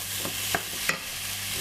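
White onion frying in a pot for a sausage casserole, a steady soft sizzle with a few light scrapes of stirring, no talk.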